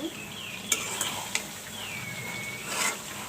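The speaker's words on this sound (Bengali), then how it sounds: "নাড়া দিয়ে দেব" Meat being stirred in a frying pan with a spoon of ghee, giving a continuous close sizzle with a few sharp clinks of the utensil against the pan, no talk.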